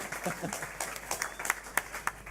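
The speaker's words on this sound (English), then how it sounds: "Can I get a round of applause for these guys, please?" Audience members at an Australian election debate applaud the candidates, a faint, scattered patter of hands with a few sharper claps standing out and some talk underneath.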